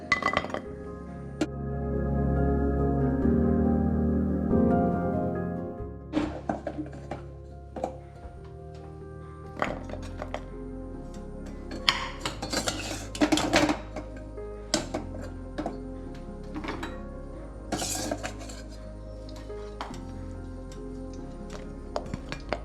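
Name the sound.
snacks being transferred into a dish, utensils clinking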